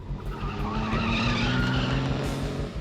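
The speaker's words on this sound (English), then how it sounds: "It's a whole high-speed chase." White pickup truck speeding during a high-speed police chase, a loud engine roar with squealing, skidding tires that continues throughout.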